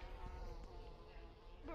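Insect-like bee buzzing from the Gorilla Tag video game, a steady droning hum with faint voices in the background.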